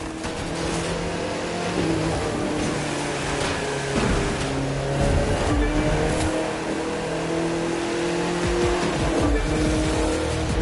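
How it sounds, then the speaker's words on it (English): A souped-up sleeper car in Fortnite races hard, its engine roaring steadily and loudly throughout with tire noise and rushing game ambience, no letup over ten seconds. "That car's really moving."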